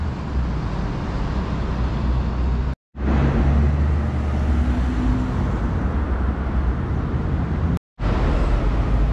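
Cars pass through an unmarked intersection without traffic lights in Karachayevsk, a steady close roadway rumble and whoosh that fills the scene, broken by two brief dropouts.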